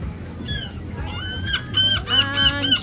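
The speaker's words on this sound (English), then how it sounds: "Seagulls are crazy here." Seagulls call over a busy seaside pier, with several sharp, repeated squawks close by that grow louder and more frequent toward the end, over a low background murmur.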